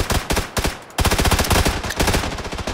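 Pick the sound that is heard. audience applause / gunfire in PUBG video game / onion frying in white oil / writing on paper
gunfire in PUBG video game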